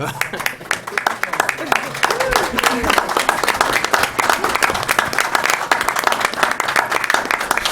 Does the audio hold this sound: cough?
no